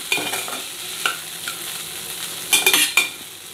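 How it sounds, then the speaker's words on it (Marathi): Roasted gram dal being stirred and mixed in a pan for chutney, with soft scraping and rustling strokes of a spoon, a few louder scrapes toward the end, no voices. "आता आपल्याला ही डाळ मिक्स करून घ्यायची आहे"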